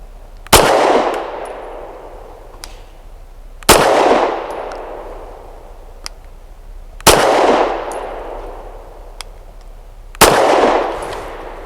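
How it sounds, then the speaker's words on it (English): A Walther PDP pistol fires Winchester White Box rounds outdoors: four loud, sharp shots about three seconds apart, each trailing off into a ringing echo, with quiet between them. "First up is the Walther PDP, 5 rounds of Winchester White Box."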